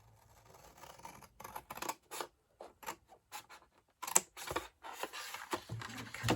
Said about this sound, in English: And cut this one off.